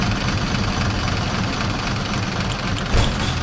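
A car engine running in the video game Oakwood: a steady low, rough idling drone with slight knocking texture, loud and continuous, with a short thump near the end and no talk.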